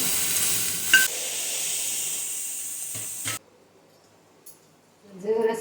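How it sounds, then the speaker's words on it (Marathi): Soybean chunks frying in a pan give off a steady sizzling hiss with a brief stir, then cut off to near silence before a short clatter and sizzle return at the end. "सोयाबीन भाजला गेलाय आता आपण याला काढून घेऊया"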